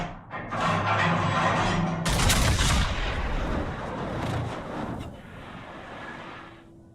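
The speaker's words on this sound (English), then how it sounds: "Delaware's still shooting HE." Naval gunfire from the battleship Delaware shooting high-explosive shells, a loud heavy salvo followed by a second big blast and rumbling decay before fading to quiet.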